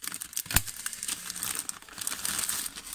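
Plastic packaging crinkling and crackling as a Xiaomi Bluetooth wireless mouse is unwrapped, close and steady, with one sharp snap early on and no talking.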